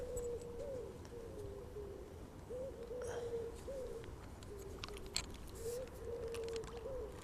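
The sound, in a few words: pigeons cooing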